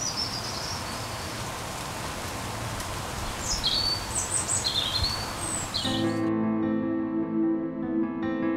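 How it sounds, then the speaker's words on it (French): Scattered bird chirps and tweets ring out over a steady hiss of falling rain outdoors, then music swells in and covers the scene near the end. "il y a les gazouillis des oiseaux."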